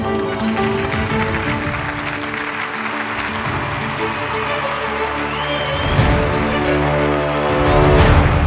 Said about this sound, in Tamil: அப்துல் ரஹீமுக்கு 1000 கைத்தட்டல்கள் தந்து கொண்டாடுகிறது ஆனந்த விகடன்.